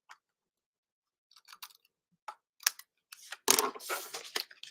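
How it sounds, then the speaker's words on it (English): Scissors snipping excess cardstock off a handmade Easter card, heard as a few sparse, close, crisp snips and paper rustles after near silence, ending in a louder cluster of cutting and handling sounds. "So we'll just snip off the extra."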